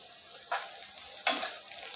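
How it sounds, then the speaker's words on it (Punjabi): Sliced onions fry in a pan for a potato curry, giving two short bursts of hissing sizzle as they are stirred, close and fairly loud over a quiet background. "ਪਿਆਜ਼ ਆਪਣਾ ਪੱਕਣਾ ਸਟਾਰਟ ਹੋ ਗਿਆ ਜੀ"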